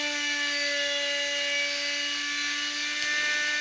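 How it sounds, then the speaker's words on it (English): A drill boring a 1/4 inch hole in acrylic gives a steady, loud, high whine with a constant tone that runs unbroken throughout, close up, with no voices. "having drilled that 1/4 inch hole"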